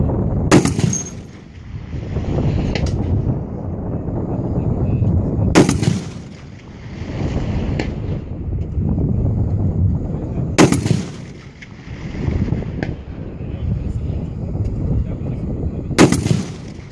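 .50 caliber rifle firing at long-range targets at an outdoor range, four loud, sharp shots spaced about five seconds apart, each cracking out over a steady background rumble.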